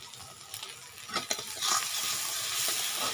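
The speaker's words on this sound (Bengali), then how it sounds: "এরপর কাঁচা লঙ্কা দিয়ে দেব।" Green chillies hit a pan of frying bhola fish for a Bengali tel jhal, with a soft, steady sizzle and a few scraping stirs, no voices.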